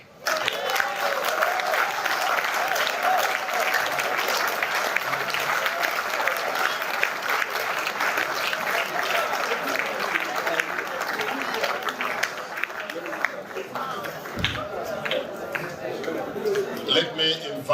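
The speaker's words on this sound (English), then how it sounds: "Let me invite us to clap again." Audience applause fills a church family-cruise gathering, steady dense clapping from a large crowd sustained for nearly eighteen seconds with scattered voices underneath, dipping briefly near the end.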